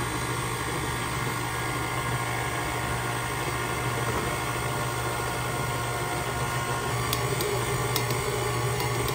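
A stand mixer kneads cinnamon roll dough with added flour, giving a constant close motor whir and a steady hum, with faint clicks near the end.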